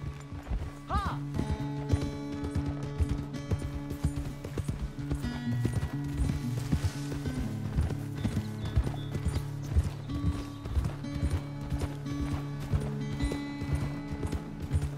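A horse galloping in the video game Red Dead Redemption 2, with rapid rhythmic hoofbeats over a low musical score, a whinny near the start, and a voice speaking briefly over it.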